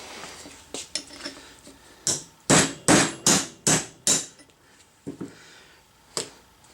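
A hammer drives a steel chisel against a Nissan 620/720 Hardbody (D21) wheel hub. About ten sharp, ringing metallic strikes sound close up, with a steady rapid run of five loud blows in the middle and lighter taps before and after.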